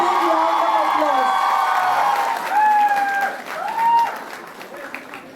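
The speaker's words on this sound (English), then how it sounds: "With a big round of applause." Fans cheer and scream for a singer at a university felicitation ceremony, high whoops rising over continuous applause that fades toward the end.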